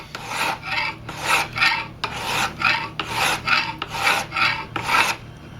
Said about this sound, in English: then I can move the file over to about here and blend it in